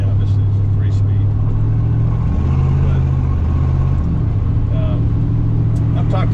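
A 1966 Corvette with a 327 V8 and Powerglide automatic transmission drives along, its engine a steady loud low drone heard from inside, with the pitch rising and settling around two and four seconds in.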